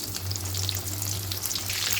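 Steady, crackling sizzle of fresh chicken pieces deep frying in hot oil, continuous and close, with a low hum underneath.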